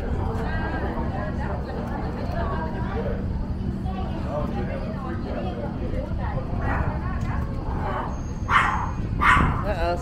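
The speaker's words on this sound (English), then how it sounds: "three little tiny dogs." Three tiny dogs barking and yipping in a crowded space on Koh Chang, with sharp yaps rising near the end over steady background noise and people talking.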